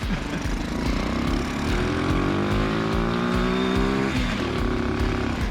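A homemade snow bike with a 3-speed motor runs at speed, its engine droning loudly and steadily, pitch climbing through a long pull, then dropping briefly and rising again, close with no voices.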